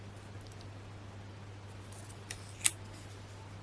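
Scissors snip once near the end of a quiet tabletop crafting session with a paper stencil, a single sharp close cut preceded by a faint click over low background hum.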